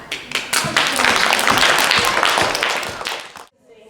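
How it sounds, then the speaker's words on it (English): Children clapping together at a storytelling session for a Scottish folktale, a loud, dense burst of claps that swells quickly, holds steady, then cuts off abruptly into quiet. "I'd like you to give them all a big clap"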